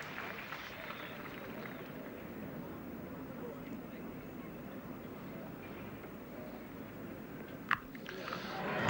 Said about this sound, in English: that's one of the biggest rounds of applause we've had all day